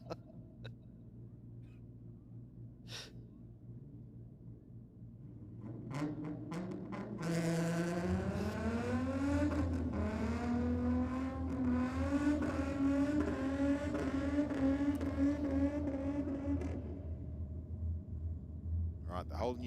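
V8 cars at a drag and burnout night in Sydney, one engine building from a low idle into a sustained, rising rev that holds loud and close for about ten seconds before easing off, with a crowd and other engines droning beneath.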